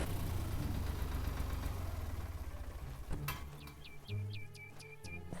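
Tractor engine idling in the farming game Farmer's Dynasty, a steady low rumble that runs throughout, with a few sharp chirping clicks breaking in near the end.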